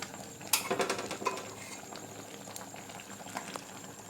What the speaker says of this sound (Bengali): আর অল্প ফুটুক, আমি নামিয়ে নেব